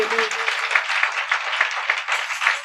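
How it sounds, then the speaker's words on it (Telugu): A church congregation claps together in quick, rhythmic bursts that fill the hall, with a voice briefly audible at the start. "చప్పట్లు కొట్టండి,"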